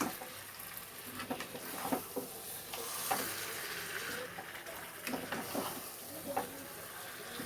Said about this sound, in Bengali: এবার সব একসঙ্গে মিশিয়ে আবারও কষতে থাকবো।